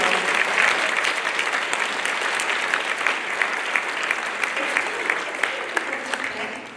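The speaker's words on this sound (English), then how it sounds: "can we give a huge round of applause for all of our award winners tonight?" At the 2024 Goodwill Breakthrough Award Ceremony, a crowd claps for the award winners. The applause is sustained and moderately loud, with scattered sharper claps standing out as it slowly tapers over nearly seven seconds.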